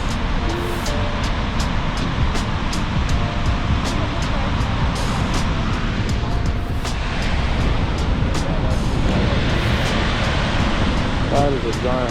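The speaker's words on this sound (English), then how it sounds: "That is a giant waterfall." Snoqualmie Falls, a giant waterfall, roars in a rainstorm as a loud, constant, broadband rush that fills the scene, with voices faintly present beneath the roar.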